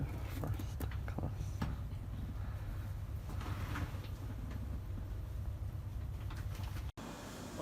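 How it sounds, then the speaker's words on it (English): Steady low rumble and rattle inside a moving LNER train in standard first class, with continuous rolling noise and faint clicks, a brief dropout near the end. "I'm in on board the LNER train"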